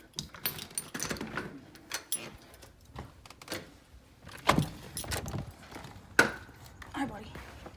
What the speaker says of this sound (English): Both sets of keys. This is the daily keys.